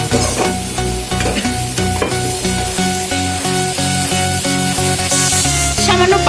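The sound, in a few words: egg curry masala being slowly sautéed and stirred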